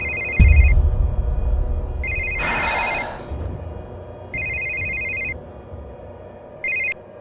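A telephone rings in repeated electronic bursts with pauses between them, loud and close, a thud and a brief noisy rustle breaking in early on.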